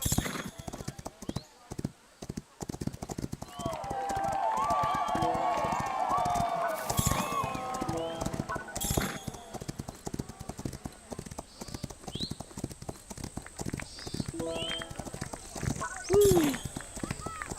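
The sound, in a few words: horses galloping in Rival Star Horse Racing video game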